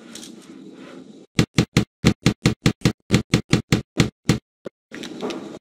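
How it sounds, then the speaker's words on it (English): Hammer blows nailing a cabin roof in the Tonka Workshop video game: about sixteen sharp, evenly spaced knocks in quick rhythm, loud and close, between stretches of softer game background sound. "Nail the roof and chimney on with the hammer."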